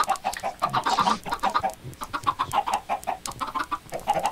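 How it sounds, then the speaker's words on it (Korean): Minecraft chickens clucking in a rapid, uneven series of short clucks from several birds close by, with no talk over them. "오 닭 많아 은근히 우리."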